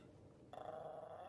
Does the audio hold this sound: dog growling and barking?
yes